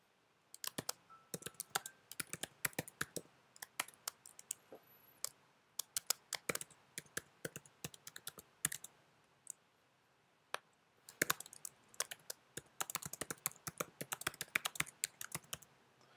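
Quick bursts of close keystrokes on a computer keyboard, irregular clusters of clicks separated by short pauses, quiet and alone.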